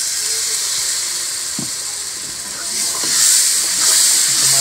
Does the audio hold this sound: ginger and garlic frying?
yes